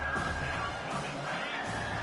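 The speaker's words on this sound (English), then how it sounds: "Decibels rising as the crowd gets behind this defense on 3rd down" Football stadium crowd roaring steadily for the defense on third down, a dense, sustained wall of cheering and babble at fairly even loudness throughout.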